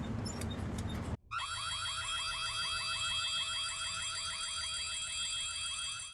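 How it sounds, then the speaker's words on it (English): A shrill electronic alarm from the 2001 Korean horror video game White Day blares after a brief moment of noise, sounding continuously and loudly with rapid warbling pulses and no talk. "For White Day, they decided to choose the most annoying sound possible for an alarm."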